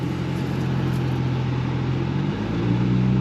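A Nissan R34 GTR V-spec in Midnight Purple pulls away in first gear, a steady low engine drone heard from inside the cabin that swells slightly near the end, with no talking over it.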